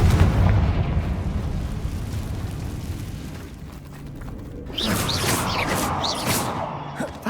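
A Confringo fire spell explodes in the video game Hogwarts Legacy: a loud, booming blast with rumbling debris fills the first seconds, then it gives way to bright crackling and magical whooshing effects over a steady game soundscape.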